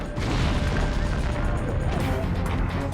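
Stockpiled ammunition exploding in Albania makes a dense, continuous roar of booming blasts and crackling bursts that stays loud and rumbling throughout.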